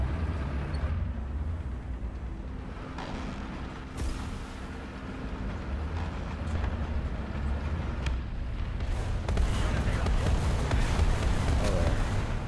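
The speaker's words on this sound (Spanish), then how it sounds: "Ahora me están disparando de frente." Gunfire aimed at a T-10M heavy tank in War Thunder, heard as dull booming impacts and cracks over a constant rumbling engine and wind-like roar.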